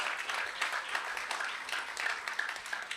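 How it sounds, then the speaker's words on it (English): An audience at a religious discourse claps together in a dense, even burst of applause, steady and fairly loud for a few seconds. "Let's applaud that."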